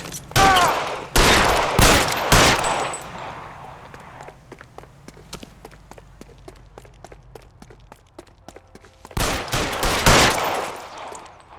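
L.A. Noire gunfire: heavy volleys of loud shots open the scene, footsteps and light taps follow through a quieter middle, then another burst of rapid shooting comes near the end.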